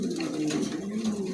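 Cooing of a four-bar (4 খিল) pigeon, one of a pair of birds kept on a farm, with a steady low murmur of coos running close and continuous from start to finish.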